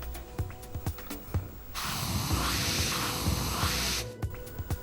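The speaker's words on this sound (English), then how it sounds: "Then remove the air channel valve core and check for airflow." Air hissing from a tyre bead lock air channel with the valve core removed, a sudden loud, steady hiss lasting about two seconds that then cuts off, with light clicks and handling noises before and after.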